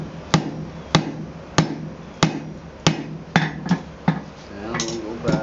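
A blacksmith hammers tongs on an anvil over a flat die, about nine sharp metallic strikes at a steady pace of roughly one per half second, close and ringing, with a short rattle of lighter taps near the end.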